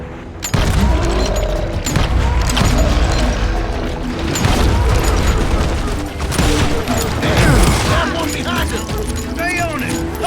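Gunfire in the Western shooter game Call of Juarez Gunslinger: dense volleys of loud shots and crashes run continuously through a battle scene, with shouting voices mixed in.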